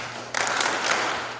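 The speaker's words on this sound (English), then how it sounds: "The clapping also has to be academic." A graduation audience bursts into clapping all at once after a short quiet lead-in, a crisp wash of many hands that holds steady to the end.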